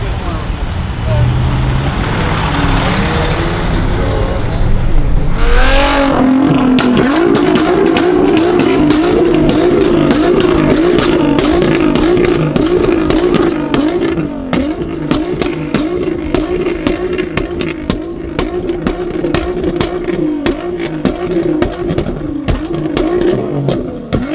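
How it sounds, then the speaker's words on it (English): A car engine at a Toys for Tots charity car meet revs hard and holds a loud, strained drone while the brakes are held, continuing for over fifteen seconds amid crowd noise and people talking nearby. "How is he braking and gassing at the same time?"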